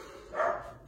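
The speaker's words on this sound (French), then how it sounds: "Ça, c'est mon chien." A pet dog gives a single short bark in a quiet home setting, moderately faint and heard alone.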